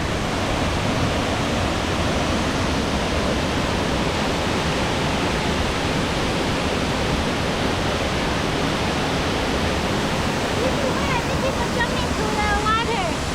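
Cascada Botos, a waterfall along the Cinchona trails in Costa Rica, pours in a steady, dense rush of falling water, loud and close, unbroken throughout with a little faint chirping near the end.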